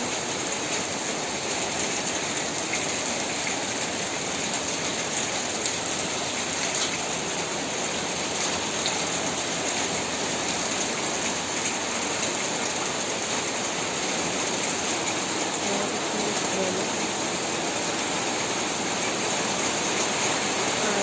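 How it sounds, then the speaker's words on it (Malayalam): Steady rain falling outdoors in Kerala, a dense, even hiss of drops that holds constant and fairly loud without pause. "കുറച്ച് ശാന്തിയായിരിക്കുകയാണ് മഴ"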